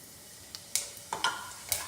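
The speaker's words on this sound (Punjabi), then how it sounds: "ਤੇਲ ਸਾਡਾ ਹੁਣ ਗਰਮ ਹੋ ਗਿਆ ਅਸੀਂ ਪਾ ਦਾਂਗੇ ਇਹਦੇ ਵਿੱਚ ਜੀਰਾ" Cumin seeds crackling in hot oil for a ridge gourd dish, a quiet sizzle broken by several sharp pops and spits at irregular intervals.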